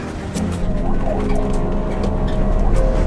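A passing emergency ambulance siren wails in rising and falling tones over a low road rumble of traffic.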